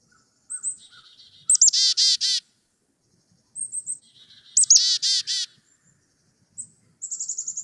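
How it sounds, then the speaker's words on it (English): A black-capped chickadee gives its chick-a-dee call three times, with high thin opening notes followed by a burst of buzzy, rapid 'dee' notes, clear and close. "The first one that we're going to hear is kind of its typical call that goes chickadee-dee-dee-dee."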